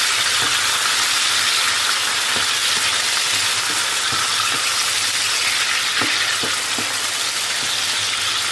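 Meat and onions frying in oil in a pan, a loud steady hiss and sizzle with occasional sharp pops and scraping stirs, close up and without talk.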